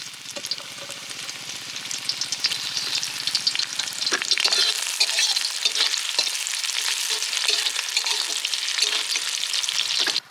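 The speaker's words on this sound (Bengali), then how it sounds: "পেঁয়াজ কুচানো রয়েছে দিয়ে দিচ্ছি" Chopped onions frying in hot mustard oil in a pan at an open-air riverside cooking spot, a steady close sizzle with stirring scrapes throughout and no talk.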